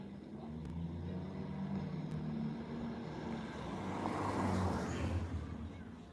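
Turbocharged car engine revving nearby, a steady broad roar that swells louder toward the middle and then eases off.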